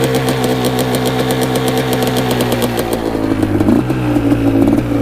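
A Quadzilla Banshee 500cc two-stroke quad engine holds high revs, a loud, steady, buzzing drone with rapid clattering pulses, wavering briefly before settling at a slightly lower pitch, with no voices.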